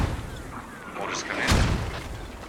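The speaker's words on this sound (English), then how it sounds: "Mortars come in." Mortar shells land in a competitive tactical shooter match, a broadband boom swelling around the midpoint over a rumbling low-end backdrop, with a commentator's voice running underneath.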